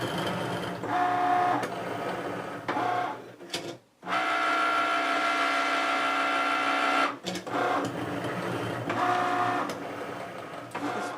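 A Cricut Maker cutting machine runs nearby with a steady mechanical whir and periodic motor buzzes and whines, broken by a brief pause partway through and a short halt later before resuming.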